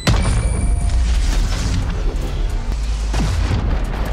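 A Valorant grenade going off, a loud, heavy boom that swells and lingers for several seconds with a rumbling low tail and scattered game sounds over it.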